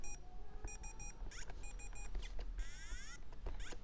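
A handheld brick video game beeping, with quick electronic bleeps and short tone runs in repeated patterns, some rising in pitch, heard close and clear over a low background rumble.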